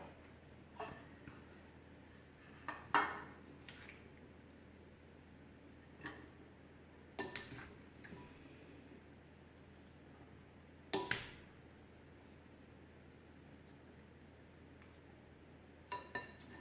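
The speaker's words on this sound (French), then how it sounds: "Et je vais la mettre dans une assiette." Tofu faux feta set down onto a plate: a few faint, sparse clinks and taps of dishware spread out over a quiet room.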